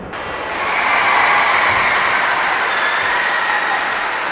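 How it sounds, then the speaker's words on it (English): Steady crowd applause after a dive in the London 2012 Olympic video game, swelling in within the first half-second and holding as a dense, continuous clapping roar with no talk over it. "Well, the crowd will react to that quite rightly."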